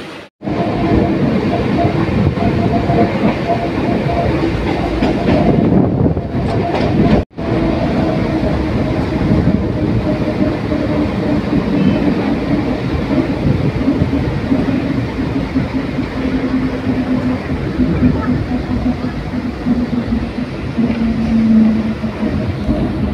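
The Krishak special train rumbles along on its run from Shantipur to Sealdah, a loud continuous clatter and roar of wheels on rails that drops out once briefly before resuming.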